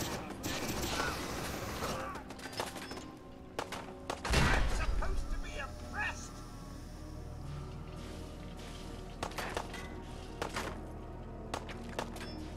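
Gunfire from the Fallout 4 video game cracks in sharp, irregular bursts, with one heavy blast standing out. Mechanical clanks and background game ambience run between the shots.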